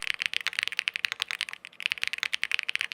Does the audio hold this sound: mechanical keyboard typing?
yes